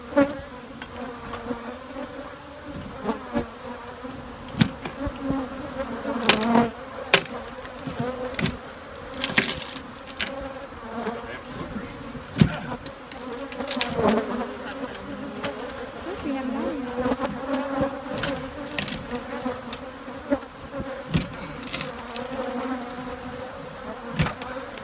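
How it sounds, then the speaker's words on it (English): A swarm of attacking bees buzzes continuously close to the microphone, with droning hums that rise and fall and sharp individual passes darting by throughout. "What do you think when you're being attacked by bees?"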